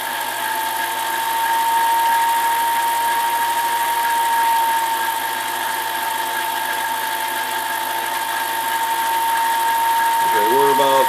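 A Chinese mini lathe cutting metal runs with a steady motor whine and mechanical hum for the whole stretch, loud and close, with a brief change in tone near the end.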